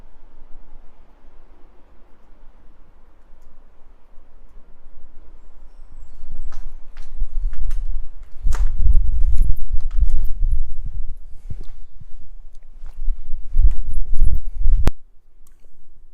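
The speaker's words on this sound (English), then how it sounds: "There's the sound of dripping water all around me, which actually sounds a bit like footsteps walking through the place" Irregular drips and knocks echo through a derelict bathhouse, the sharp taps loose and uneven like scattered footsteps, clustering loudly in places over a low hollow room rumble.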